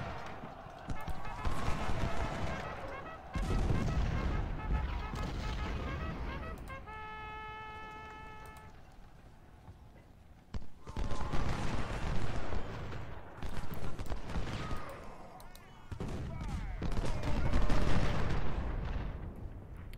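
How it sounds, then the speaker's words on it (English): Musket volleys and artillery fire in Ultimate General, a Union supply raid battle: bursts of booming shots and crackling volleys, some near, some distant, a brief sustained tone partway through, with battle ambience throughout. "Put some volleys into these guys."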